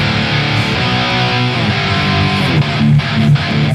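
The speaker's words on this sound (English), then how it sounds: "I'm just going to add a Ibanez tube screamer over the top." Crunchy electric guitar chords from a Les Paul through a crunch amp channel boosted by an Ibanez Tube Screamer, strummed rhythmically with bright high end, loud with no talking.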